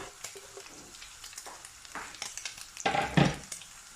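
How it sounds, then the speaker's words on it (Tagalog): Onion and garlic sauté in a pan for lasagna while being stirred. Light ticks and crackles lead into a louder scraping sizzle burst near the end. "Tapos halu-haluin. Hanggang sa umamoy ang sibuyas at bawang."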